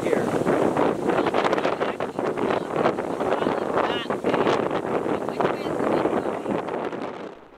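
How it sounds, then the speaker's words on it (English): Strong wind buffets the microphone in a constant rough roar on a lake in the Wabakimi wilderness, with gusty surges throughout and no clear talk. "We battled strong headwinds to get out of White Clay Lake"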